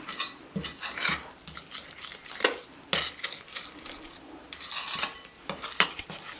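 A liquid mixture is stirred into sweet bun dough in a planetary mixer bowl, producing repeated soft wet slaps and scraping clatter against the bowl in an irregular rhythm, close and moderately loud with no talking.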